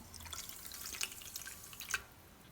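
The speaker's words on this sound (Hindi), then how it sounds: "उसी कप को मेजर करते हुए मैं शामिल कर लूँगी 1 कप पानी।" A cup of water poured into a cooking pan for kalakand syrup, with sugar already in the pan; soft splashing and dripping that is quiet and close, with no talk.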